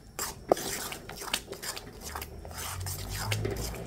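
Turmeric and ginger powder being stirred into a bowl of mashed dried fish, with a sharp utensil clink, then repeated close scrapes and taps against the dish, alone with no voices.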